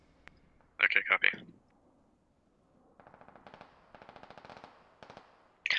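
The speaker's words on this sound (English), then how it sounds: "one is taking fire from the southwest. AR fire." Assault rifle fire in the military shooter game Squad crackles in rapid bursts at a distance, with a louder close burst at the start and end, mixed with radio-style voices.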